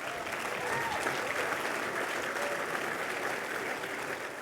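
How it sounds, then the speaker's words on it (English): Steady applause from a dinner audience fills the room for the full few seconds, dense and even with no pauses, a faint tone or voice rising briefly above the clapping. "let's have a round of applause for these two guys"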